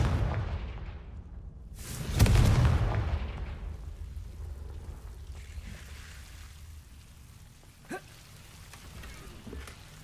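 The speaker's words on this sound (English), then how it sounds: "Confringo!" A Confringo fire spell explodes in Hogwarts Legacy as one loud, sharp burst about two seconds in, then fades into a low ambient rumble with a faint later thud.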